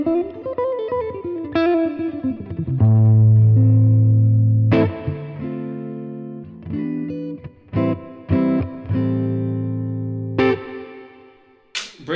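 A Telecaster played through a Boss Nextone Stage amp in EL84 mode with the boost engaged gives a run of sustained, overdriven notes and chords, with some held long and others cut short and rearticulated, close and fairly loud, with no talking.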